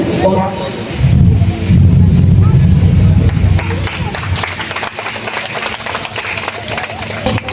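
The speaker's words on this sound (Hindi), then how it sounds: "माननीय मंत्री जी को साल उठा करके जोरदार ताली से स्वागत कीजिए।" A crowd at a school event in Bihar claps to welcome a minister, a loud burst of applause mixed with babble and murmuring voices, which then thins into ongoing crowd noise.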